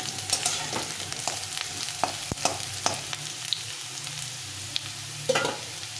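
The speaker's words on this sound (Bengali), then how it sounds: "আমার পেঁয়াজ আর দুটো ভাজা হয়ে গেছে একদম লাল লাল করে ভাজা হয়ে গেছে" Onions frying in oil in a pan while being stirred, soft crackling sizzle with sharp scraping clinks of a spatula scattered irregularly across the clip.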